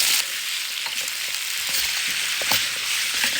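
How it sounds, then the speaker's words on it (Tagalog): Carrots and potatoes pan fry with a steady, loud sizzle and crackle, close up, with faint stirring clicks and no voices. "yung pag-pan fry ng carrots at potato"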